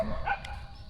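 A dog gives a brief bark or yip at moderate distance, muffled against steady background noise, a single short burst.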